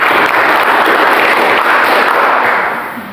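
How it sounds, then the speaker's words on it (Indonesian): Classroom applause from a group of students, a dense, loud wash of clapping that holds steady for about three seconds before easing off slightly at the end. "Tepuk tangan dulu."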